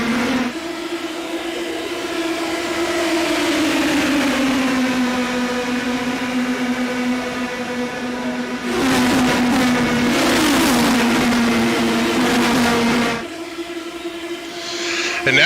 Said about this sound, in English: we're seeing a couple of cars heading back onto the racetrack